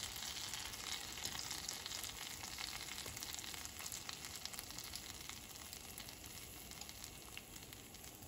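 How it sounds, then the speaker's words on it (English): Slices of French toast sizzle steadily in melted butter in a pan, a close, even, crackling fry that carries on throughout without talk. "Now that our butter is all melted, we're gonna go ahead and just pop our toast right in."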